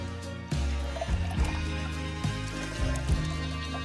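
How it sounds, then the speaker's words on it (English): Water is poured in for a batch of margaritas made with limeade, giving a continuous close gurgling pour broken by a few soft knocks and clunks. "Next, add water."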